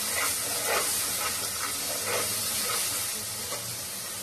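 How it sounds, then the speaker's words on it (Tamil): Ginger garlic paste sautéing in a pot for mutton biryani, a dense, steady hissing sizzle with faint rhythmic stirring swishes, close and continuous. "நல்லா வதக்கி விடணும்"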